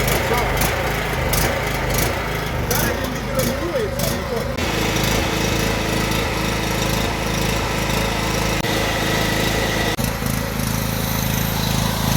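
A Stanley SG 3100 petrol generator of about 2.2 kW runs steadily and loudly at close range after starting, giving a continuous engine drone with a constant low hum while someone talks over it.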